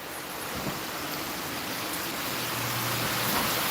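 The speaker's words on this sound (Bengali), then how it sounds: "কি মারাত্মক বৃষ্টি হচ্ছে তিন দিন ধরে হচ্ছে নিমোচাপের বৃষ্টি" Constant dense hiss of heavy monsoon depression rain pouring down, a steady wash of noise with no pauses.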